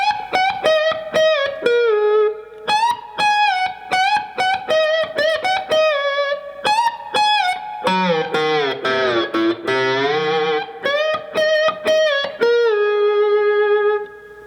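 Electric slide guitar plays the instrumental section of a song, with sustained, gliding notes and a long bending passage in the middle, over quiet rhythmic strumming and free of voices.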